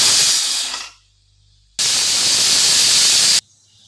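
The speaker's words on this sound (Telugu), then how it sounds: "కుక్కర్లో వేసుకుని స్టవ్ మీద పెట్టుకుని శనగపప్పు ఒక 4 విజిల్లు వేయించుకుందాం." A pressure cooker cooking chana dal on a stove lets out loud, steady bursts of hissing steam. Two long blasts are broken by a short lull, and each ends abruptly.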